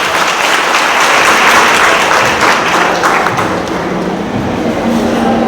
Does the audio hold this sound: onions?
no